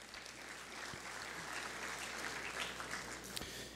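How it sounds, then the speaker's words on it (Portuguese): Faint, dense applause from a forum audience, steady clapping throughout, heard at a distance. "Uma salva de palmas ao nosso moderador."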